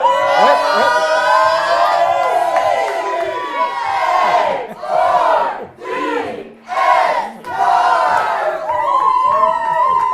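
A stadium crowd roars a Cardinals cheer, a massed chant swelling in repeated surges with short dips between, loud and close, with voices shouting throughout.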